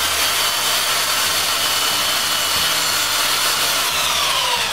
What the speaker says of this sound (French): Je sable le bas pour qu'il soit droit.